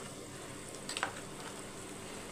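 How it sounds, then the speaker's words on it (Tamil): A pot of chana biryani bubbles on the stove with a soft, steady hiss and faint popping, quiet and close, with a brief cluster of small clicks partway through. "அவ்வளோதான், கொதிக்கிட்டோம்."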